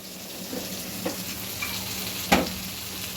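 Tomatoes, seeds removed, frying lightly in a pan for Maher Kalia, giving a steady soft sizzle with a few stirring scrapes and one sharper clatter near the end.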